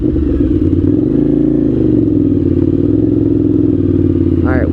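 A fuel-injected 1998 Suzuki TL1000R motorcycle ridden through city streets, its engine a loud, close, steady low rumble that holds and shifts pitch slightly, with a brief rising rev near the end and no talk.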